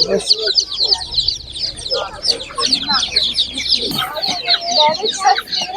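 Many chickens cluck and chatter at an animal market in Ivano-Frankivsk, a dense, continuous flock sound close by, with people talking underneath.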